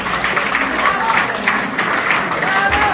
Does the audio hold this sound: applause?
yes